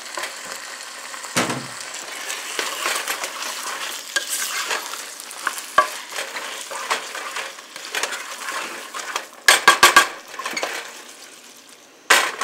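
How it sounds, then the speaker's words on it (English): Onions and green peppers sizzle steadily in a hot, heavy pan, with occasional scraping stirs and a few sharp clanks of a utensil against the pan. "You can hear it starting to sizzle a little bit again."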